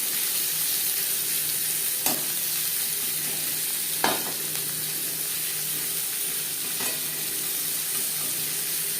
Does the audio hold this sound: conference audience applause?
no